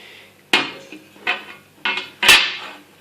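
Metal top cover of a Synrad laser being lifted off, giving four sharp metallic clanks and scrapes spaced about half a second apart, the last one loudest and most ringing, close by with no talking.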